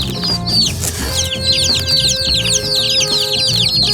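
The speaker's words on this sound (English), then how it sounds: "Look at all those chicks." A shipping box full of baby chicks cheeps constantly, many high overlapping peeps forming a loud, close, busy chorus with no speech.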